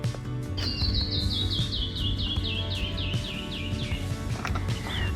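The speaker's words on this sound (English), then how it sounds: "Don't know if y'all heard that or not, but it's canyon wrens, and they're all along these." A canyon wren sings along a creek canyon: a descending cascade of about fifteen clear, rapid whistled notes slides down in pitch, mid-distance, over a steady background rush.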